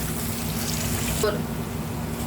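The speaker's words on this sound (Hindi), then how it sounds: "अब ये पानी डाल दिए मसाले का।" Water is poured into fried masala in a pan, giving a steady hiss of sizzling and splashing liquid that cuts off sharply partway through, close and moderately loud with a voice faintly under it.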